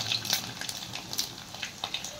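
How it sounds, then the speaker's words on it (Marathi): Garlic and asafoetida sizzle in hot oil with mustard seeds already popping in a tempering for Nagpuri gola rice. A steady, close frying hiss is broken by brief crackles and a faint stir, with no voices. "आणि हिंग टाकते फोडणीमध्ये."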